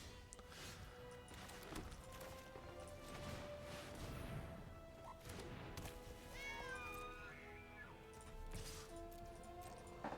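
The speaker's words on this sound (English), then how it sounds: "The fact that that meows is just the most hilarious thing to me" An elk cat creature card in the MTG Arena video game gives several bright cartoonish meows over a busy, dense game soundtrack with chimes and effects.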